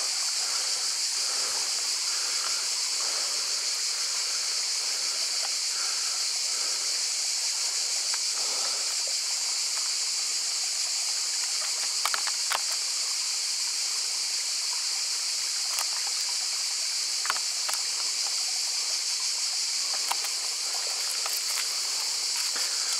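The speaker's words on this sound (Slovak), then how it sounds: "A myslím, že to je ten vodopád, ktorý sme mali nájsť." Water rushes steadily at the Apostle waterfalls on Thassos, a continuous broadband roar of falling and flowing stream water with no voices over it.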